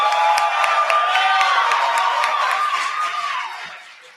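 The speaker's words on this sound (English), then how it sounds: "Can we give Michael one big round of applause, please?" An event audience at an ethics bowl national championship breaks into applause and cheering, a dense wash of clapping with some shouts that holds steady and then fades out toward the end.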